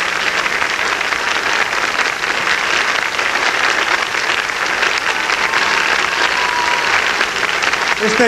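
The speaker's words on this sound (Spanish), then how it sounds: "esta escena merece que nos pongamos de pie y le aplaudemos como se merezca" A theater audience breaks into loud, sustained applause, a dense wash of clapping that stays steady and close throughout with no break.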